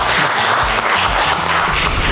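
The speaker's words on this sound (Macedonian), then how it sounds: "аплауз за сите" A studio audience on a cooking competition show applauds all the pinjur contestants, a dense, steady burst of clapping that lasts throughout.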